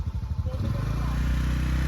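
A motorcycle rides past close by, its engine a loud, steady drone that swells and rises in pitch over two seconds.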